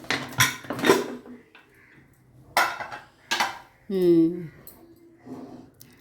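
Metal spoon scraping and clanking against a pressure cooker pot while stirring kodo millet pongal, a few stirring strokes with pauses, followed by a brief squeaky scrape.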